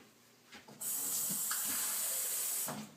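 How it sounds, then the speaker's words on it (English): Tap water runs into a measuring cup, a steady close hiss that starts abruptly after a few soft clunks and continues for about two seconds before stopping. "now I'm going to take a measuring cup and put water in it"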